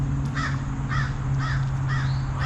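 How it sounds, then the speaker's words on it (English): A crow caws harshly in repeated, evenly spaced calls, about five in quick succession, over a steady low outdoor hum, sounding agitated and fairly close with no talking. "That crow is mad."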